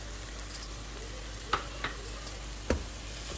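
Crushed ginger and garlic sizzle gently in a pan with sautéed onions. The soft, steady frying hiss is broken by a few sharp clicks of stirring, and no one speaks.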